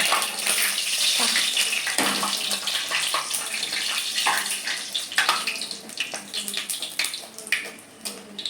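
Hot cooking oil spatters and sizzles in a pot where water got in, a loud, continuous crackling hiss with sharp pops all the way through.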